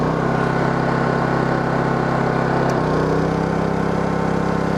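Honda EU2200i inverter generator with eco mode switched off, its small engine humming loudly and steadily, then stepping up to a higher idle partway through and holding there, close by with no talk.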